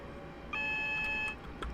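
An AWS cab warning beep in Train Simulator 2017 on the North London Line: a single clear electronic tone held for just under a second over low cab rumble.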